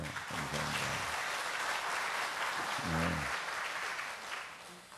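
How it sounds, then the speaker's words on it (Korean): A church congregation applauds after a plaque presentation, clapping quietly and steadily for a few seconds with brief low voice murmurs under it before tapering off. "박수해 주세요"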